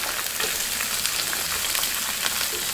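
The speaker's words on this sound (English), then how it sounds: "Now into the hot oil, add the onion and the garlic." Chopped onion and garlic frying in a pan of hot olive oil, giving a steady, dense close-up sizzle with scattered crackles and pops throughout.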